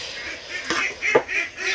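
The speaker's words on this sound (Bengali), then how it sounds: "বহুত হাঁসগুলা যে পানির মধ্যে খেলতেছে" Ducks quacking near water, a few raspy quacks in quick succession, fairly close and clear over a quiet outdoor background.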